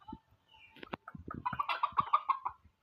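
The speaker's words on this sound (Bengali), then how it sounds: "এই যে মুরগিগুলো আমাদের বাসাতে মোরগ আছে" Chickens and roosters at a home farm coop cluck in a quick series of close, rising calls after a few scattered scratchy noises.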